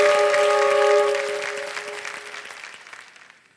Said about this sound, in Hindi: उनको हम ताली बजाते हैं और धन्यवाद देते हैं